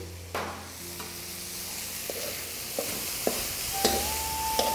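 Soy sauce poured into a hot wok of vegetables and meat for chop suey rice, a soft steady sizzle with light stirring clicks and taps, close and fairly quiet.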